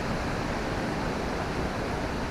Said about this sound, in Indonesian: Umo Anyar Waterfall ini termasuk salah satu air terjun yang sangat dekat ya dari parkiran